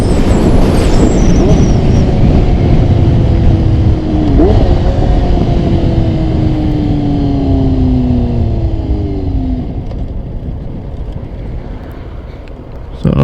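A 2000 Kawasaki ZX6 sport bike runs loud and close while being ridden, its engine note steady before rising and falling through revs and gear changes, with wind rush underneath and the sound easing toward the end.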